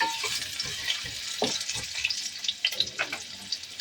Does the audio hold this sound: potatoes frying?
yes